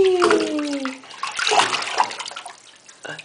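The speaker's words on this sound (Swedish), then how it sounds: "Det stänker på pappa, vet du det?" Water splashing in a bathtub while a small child is bathed, with continuous close sloshing and splashes; someone talks over it and a voice is briefly heard.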